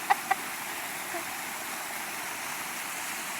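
Cascade Waterfall beside the Blue Ridge Parkway in North Carolina roars in a steady, dense wash of falling water, close and continuous, with a couple of brief sharp clicks at the start.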